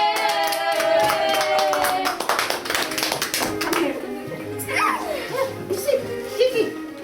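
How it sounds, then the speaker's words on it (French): An audience claps in quick, crisp taps for a performer over music, the clapping fading as children's voices and giggles take over. "Applaudissez-la bien fort"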